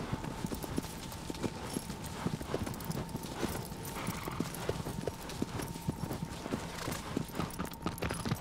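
Horse hooves clip-clop steadily in a rapid galloping rhythm through desert ruins in the Shadow of the Colossus video game, with a faint constant drone behind the hoofbeats.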